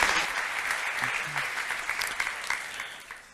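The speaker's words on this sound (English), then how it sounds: "you will give him an even warmer round of applause when he gets up on here" An audience applauds a speaker at a talk event, steady dense clapping that fills the room and tapers slightly toward the end, with no voices over it.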